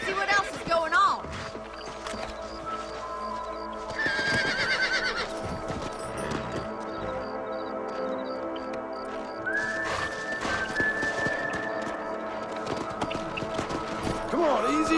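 Horses gallop and whinny in the Red Dead Redemption video game, hooves pounding alongside character dialogue and a musical score.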